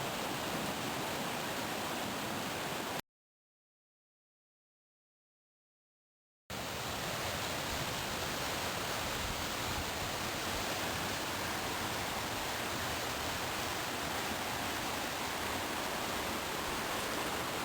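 The Styx branch of Alum Cave Creek rushes beneath a footbridge on a mountain trail toward Mount LeConte, a steady, full roar of flowing water that continues without pause apart from one brief dropout.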